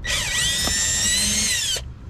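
A power drill with an adapter removes screws during an oil change on a Dodge Charger Scat Pack, whining at high pitch for under two seconds, winding up quickly, holding steady, then cutting off sharply.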